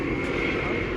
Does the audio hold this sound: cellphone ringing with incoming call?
no